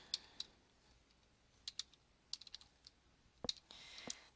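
Sparse keystrokes on a computer keyboard while entering text into a spreadsheet cell, scattered clicks in small clusters with quiet pauses between, close and alone.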